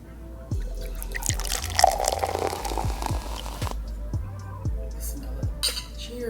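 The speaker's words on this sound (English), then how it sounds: "we're gonna get our glasses ready and pour on up" Stella Rosa Tropical Mango wine poured into glasses, gurgling glugs and splashy liquid trickles in bursts, close up, with a few soft knocks between pours.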